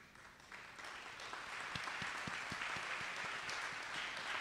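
A political rally audience in Warner Robins applauds standing educators, a quiet, distant wash of clapping that swells slightly and holds steady, with a few individual claps standing out.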